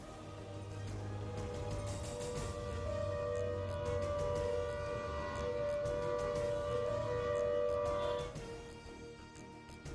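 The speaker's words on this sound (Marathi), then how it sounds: "शाळेत सायरन वाजवून तपासणी" A civil defense siren tested at a school in Maharashtra holds a steady wailing tone for several seconds, loud and continuous, then fades out near the end.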